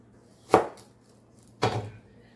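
Two separate knife chops through onion on a cutting board, sharp and close, about a second apart against quiet background.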